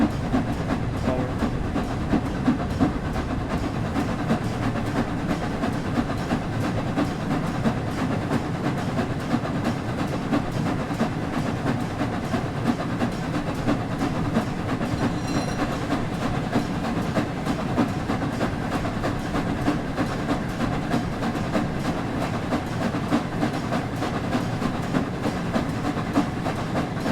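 A train locomotive runs in the video game Train Sim World 4, giving a loud, continuous rolling rumble with steady rhythmic clickety-clack and a faint hiss, heard alone without speech.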